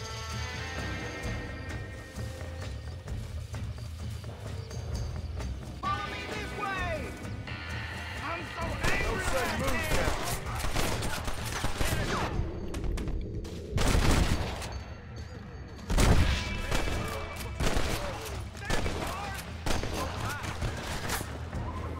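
Gunfight in the western game Red Dead Redemption: repeated sharp gunshots and volleys crack out in clusters over a busy backdrop, with a couple of louder close blasts midway and people talking throughout.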